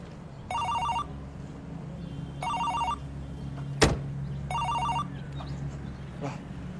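A mobile phone rings in three evenly spaced electronic bursts, sounding muffled as if from inside something, over a low steady hum with one sharp knock in between.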